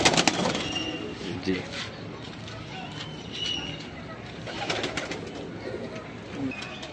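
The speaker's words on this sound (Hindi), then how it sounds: "ये आपके सामने नज़र आ रहे हैं 1 2 3 4 5 6 7 बड़े कबूतर" Several large breeder pigeons kept for sale coo in soft, repeated throaty bursts close by, with a little wing flutter and a voice speaking over them.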